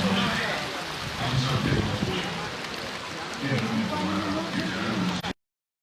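Rainwater runs and splashes steadily through a flooded village in the monsoon, a continuous broadband wash close by with a voice talking over it throughout.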